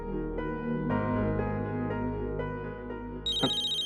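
A mobile phone ringtone plays a repeating electronic melody of sustained tones, fairly soft and alone, shifting to a brighter, higher ringing pattern near the end.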